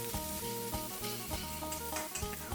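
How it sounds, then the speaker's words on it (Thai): Red curry paste with shrimp paste stir-frying in oil, its soft sizzle broken by repeated spatula scrapes and taps against the pan in a quick stirring rhythm, quiet and close. "หลังจากนั้นก็ผัดจนพริกแกงเหลือ งหอมก่อนครับ"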